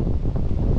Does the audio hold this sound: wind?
yes